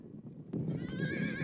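A wild mustang on an Australian range gives a loud, close whinny that rises and wavers for about a second, preceded by a sharp thump and low rustling.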